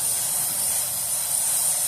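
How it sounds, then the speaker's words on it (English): Cleaner sprays onto a bicycle or motorcycle chain during maintenance, producing a steady, loud, close hiss that runs unbroken throughout without voices. "scraping away, spraying the shit off"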